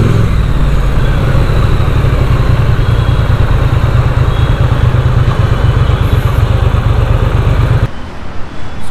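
A 2021 Triumph Street Twin BS6 motorcycle rumbles steadily while being ridden, with its loud engine drone running continuously up close. Near the end the rumble drops off sharply into a quieter wash.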